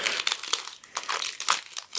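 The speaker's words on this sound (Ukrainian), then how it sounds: "тут у нас зіп-пакет. Зіп-пакет наклеєний на скотч." A crinkly plastic zip bag holding a coin is handled and squeezed, giving a close, bright rustling crackle in short uneven bursts, with no one talking.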